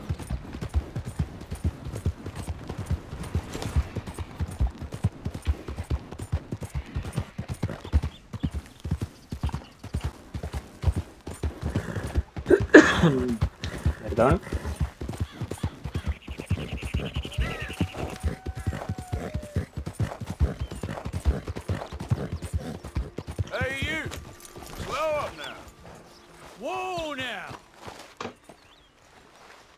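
Horse hooves clip-clop steadily in Red Dead Redemption 2, a fast even rhythm of hoofbeats that slows and fades near the end, with someone talking over it and brief game voices.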